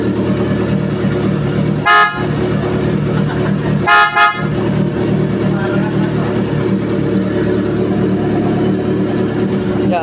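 A PIAA Super Bass horn fitted to a Kawasaki Z1000 motorcycle sounds twice, the first blast short and the second a quick double toot, loud and close over steady background noise.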